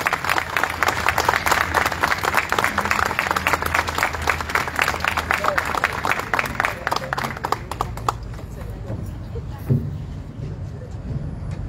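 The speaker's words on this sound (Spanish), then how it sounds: "Un aplauso, por favor." A crowd applauds a plaque presentation at the Instituto Juan XXIII's 60th anniversary celebration. Loud, dense clapping runs for about eight seconds, then thins and fades into quieter room noise.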